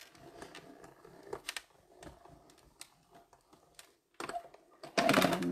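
A die-cutting machine cranks an embossing folder with plate number 4 through, giving irregular clicks and ratcheting bursts that end in a louder grinding stretch.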